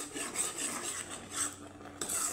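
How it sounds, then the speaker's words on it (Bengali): Milk for kalakand being stirred continuously in a pan, a steady scraping rub of spoon against metal with rhythmic swishing strokes, fairly quiet and close, with no talking. "দুধটা না শুকানো অবধি এভাবে আমার অনবরত নাড়িয়ে যেতে হবে।"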